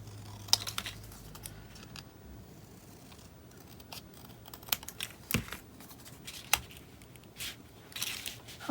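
Scissors snip through paper while a mixed media bullet journal cover is being set up, giving a few sharp, close cuts spread across a quiet tabletop background.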